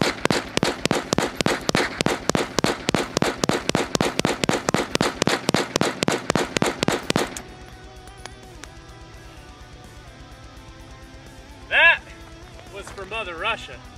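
AK-47 rifle firing a rapid, steady burst of loud shots for several seconds that then stops abruptly, followed by quieter background sounds and a few brief vocal sounds.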